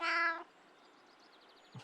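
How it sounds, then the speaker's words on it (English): A cat in the Kentucky Route Zero game gives a single short, clear meow up close, followed by quiet and a faint soft sound at the end. "Confident meow."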